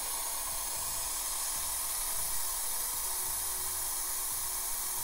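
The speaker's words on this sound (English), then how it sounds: "I'm just going to spray" Got to Be Glued High Insta Hold wig spray hissing from a can during wig application, a faint steady spray continuing throughout without any talking.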